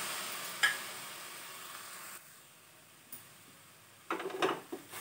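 Cassia tora (takla) leaves frying in a pan as water is added, a soft sizzle with occasional stirring scrapes and utensil clinks, fairly quiet and close.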